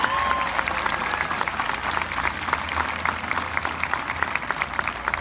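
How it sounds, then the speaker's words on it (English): A high school graduation crowd gives a big round of applause for fire department volunteers, a loud, continuous rush of clapping with sharp individual claps standing out. "Give those volunteers a big round of applause."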